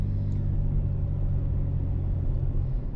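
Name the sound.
2001 Jeep Cherokee XJ engine while driving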